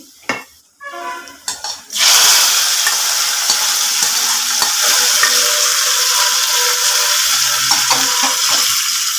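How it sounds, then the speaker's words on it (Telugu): After a few metal clinks from a pan, hot oil tempering with dried red chillies and curry leaves hits drumstick-leaf dal and bursts into a loud, sustained sizzle that slowly settles but keeps crackling to the end. "తర్వాత ఎండుమిరపకాయలను కరివేపాకు తాలింపు రెడీ అయిపోయిందండి గ్యాస్ కట్టేసి తాలింపు పెట్టేసుకొచ్చండి"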